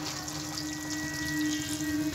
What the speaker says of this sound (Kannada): ಈಗ ಇದಕ್ಕೆ ನೀರು ಹಾಕೊತಾ ಇದ್ದೀನಿ ಒಂದು ಸ್ವಲ್ಪ